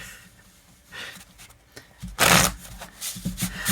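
Tarot cards are shuffled by hand in quick riffling bursts, with a loud flurry midway and softer flicks and taps around it, close up.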